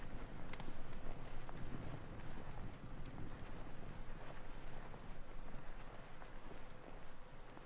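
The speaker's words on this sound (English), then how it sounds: "So he's riding on a horse." Horse hooves clip-clop in a steady, quick rhythm over a dense, continuous background, at moderate distance, in the video game Assassin's Creed Origins.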